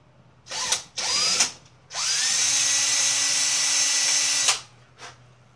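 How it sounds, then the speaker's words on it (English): A power drill with a quarter-inch bit whirs in two short bursts, then runs steadily for a few seconds through wood before spinning down. "Put your quarter inch bit in and you're going to drill one at four and a half"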